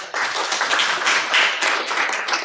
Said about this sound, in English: So you are applauding someone from the metaverse.